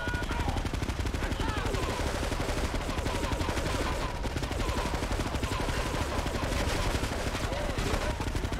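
Dense, continuous gunfire in Grand Theft Auto 3: Definitive Edition on Xbox Series, rapid machine-gun bursts overlapping without letup, loud and close throughout.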